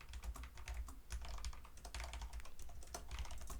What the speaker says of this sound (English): I'm sorry about my typing.